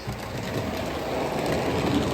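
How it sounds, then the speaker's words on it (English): A quiet model railway train runs steadily around a track by a miniature cricket ground, giving a soft continuous rolling rumble with faint clicking, close and even throughout. "Very quiet train, that one."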